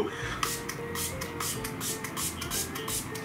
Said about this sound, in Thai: เป็นอ่าสเปรย์เมือกหอยทากนะคะชื่อ Snail Whitening Mist Moisturizing and Repair อ่ะ จะมาฉีดให้ดู